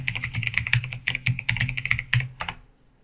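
A password is typed on a computer keyboard at a login screen: a quick run of close, crisp key clicks in uneven bursts that stops abruptly, with no talking.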